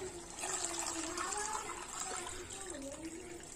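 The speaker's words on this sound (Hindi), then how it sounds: "अब मैं इसमें डालूंगी पानी पूरा एक जग भर के।" A full jug of water is poured into a pot of hot pot stock at home, giving a continuous gurgling, splashing stream at moderate distance for a few seconds.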